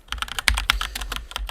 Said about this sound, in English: Sorry if the keyboard is loud.